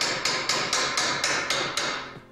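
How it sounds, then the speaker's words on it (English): Hammer knocking wood off a pallet: seven evenly spaced sharp strikes ring out close and loud, each with a short decaying ring, in steady rhythm and with no voices. "Have you got a quiet hammer you can use?"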